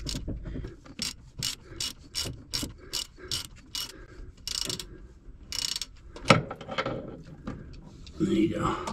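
A hand ratchet clicks in a quick, even series of close strokes as a part is loosened on a Volvo Penta 5.7 marine engine during winterizing, followed by some rattling of parts.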